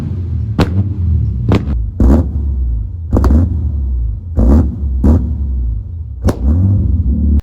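A Mercedes C400 engine idles with a deep, steady rumble while the exhaust flamethrower fires in sharp, loud pops and bangs at irregular intervals, close by and with no voices.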